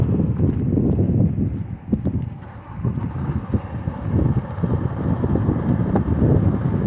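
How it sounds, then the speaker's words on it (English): Strong wind gusting past 40 mph buffets the microphone in a continuous low roar, swelling and easing in uneven gusts during a pause on a drive toward Fort Stockton. "You can probably hear it, but it's gusting 40 miles an hour plus."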